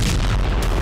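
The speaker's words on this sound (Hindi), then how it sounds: "जबरदस्त ब्लास्ट के साथ ही आसपास का इलाका थर्रा उठा" A powerful blast in Rostov province, Russia, rolling as a loud, sustained low-frequency boom with dense rumble throughout, close and overwhelming, with no voices.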